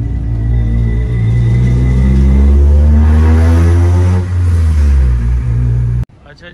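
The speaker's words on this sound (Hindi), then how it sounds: "अच्छा जी व्यूअर्स, तो ये गाड़ी है जिसका अभी आप एग्जॉस्ट सुन रहे थे" A 2000 Honda Civic with a D17 engine setup, its exhaust revving loudly and close with a deep steady drone that swells and holds before cutting off abruptly near the end.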